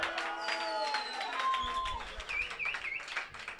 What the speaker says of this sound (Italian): Me lo fai sentire un applauso!